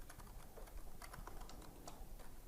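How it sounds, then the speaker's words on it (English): Quick keystrokes on a computer keyboard, a light and uneven patter of clicks typed at a steady clip, close but quiet, with no voices. "So I'm going to type in"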